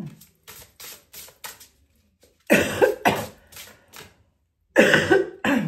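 A woman coughing several times in a quiet room, with short dry coughs in a few clusters followed by louder, harsher bursts close to the microphone, no talking.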